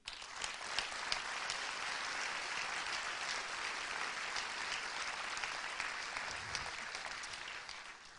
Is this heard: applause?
yes